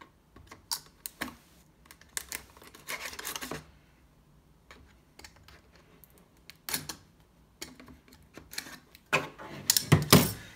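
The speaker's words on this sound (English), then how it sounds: "So we'll be using this utility knife to cut this." A utility knife slices through two tapes sealing a Corsair STRAFE RGB mechanical keyboard box, making bursts of scratchy rasping and scraping with short gaps between them. It sounds close and dry and grows busier and louder toward the end.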